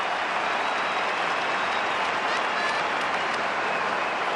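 A stadium crowd at an AFL match between Essendon and Port Adelaide roars and applauds after a Bombers goal, a dense, steady wall of cheering noise that holds throughout.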